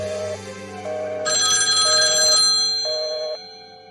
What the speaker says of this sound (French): Ce soir, le téléphone du docteur sonne dans un silence insoutenable.